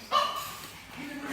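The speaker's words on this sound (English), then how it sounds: "Oh, the dogs. The dogs. They're wild." Dogs at a house in Pimpama bark in a short yappy burst at the start, then settle into background noise with quieter indoor sounds.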